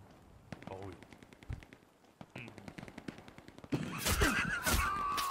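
Rapid machine-gun fire crackles through a Hell Let Loose battle on Purple Heart Lane, steady bursts of distant shots that grow louder and denser toward the end, with players talking over it.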